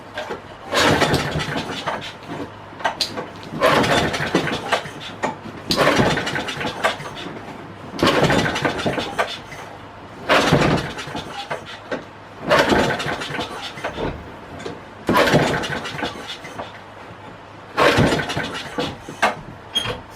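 A Craftsman lawn mower engine is pull-started repeatedly without firing, giving eight rhythmic bursts of rope-cranking and sputter separated by short pauses, close by with no talking.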